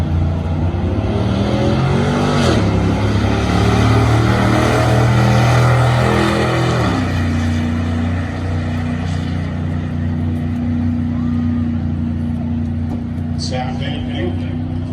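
A Chevrolet Silverado SS pulls down a drag strip at a street car takeover event, its engine droning loud and steady through gear changes, with crowd noise and talking over it.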